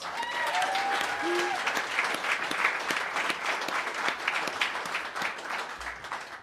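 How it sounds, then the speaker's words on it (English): Audience applause at a live music show welcoming a singer to the stage, steady dense clapping from a full room that holds for several seconds and tapers slightly at the end. "Please give her a nice big round of applause."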